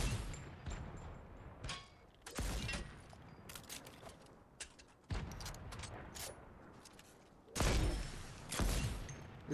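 Sniper rifle shots ring out in a shooter game: about five loud, sharp cracks at irregular intervals, each trailing off in a short echoing tail, with near silence between them.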